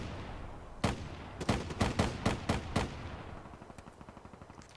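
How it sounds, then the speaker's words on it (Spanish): Submachine-gun fire in Black Ops 3 gameplay: a loud opening shot, then a run of sharp, evenly spaced reports, trailing into a quieter, faster rattle of distant shots. "Pinches balazos, ¿cómo se escucha?"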